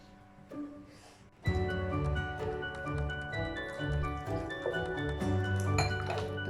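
Water pours steadily into a cooking pot of lentils for pumpkin sambar, a continuous splashing gush with occasional clinks of metal, close and moderately loud.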